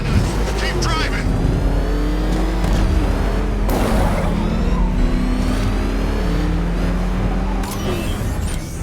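Engine of a car driven in the Batman Arkham Knight video game, a steady loud rumble with shifting revs throughout, mixed with other game sounds.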